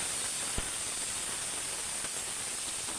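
Tomatoes dropped into a hot pan where black beans are frying give a steady, loud hiss and sizzle throughout, with a brief faint clink near the start.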